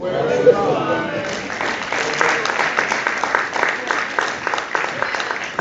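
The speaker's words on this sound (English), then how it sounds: "Can we all give her another round of applause?" Audience applause after closing words at a study group, a crowd clapping at moderate distance, mixed with talking and voices over the clapping.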